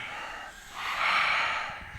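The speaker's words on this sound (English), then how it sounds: "Keep breathing." A deep breath drawn in during a guided breathing exercise, a long airy inhale that swells and fades over about a second, close to the microphone with no talk.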